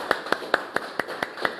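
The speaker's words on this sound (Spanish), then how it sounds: "Dele un aplauso fuerte a nuestro Dios." Steady, evenly spaced claps ring out in a church service, about seven sharp hand claps in quick succession with no talk over them.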